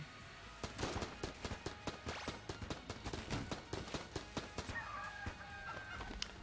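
Cuckoo birds attacking in the Enter the Gungeon video game, a quick rhythmic run of squawking, clucking bird calls mixed with rapid game hits, fairly faint.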